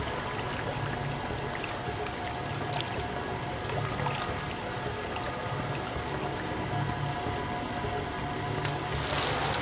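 Water sloshes and splashes as a magician is lowered into a water chamber during an escape act, a continuous moderate churning wash with scattered drips and spills, no voices.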